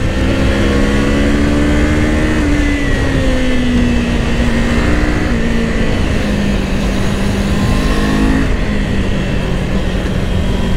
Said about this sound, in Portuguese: acelera, olha isso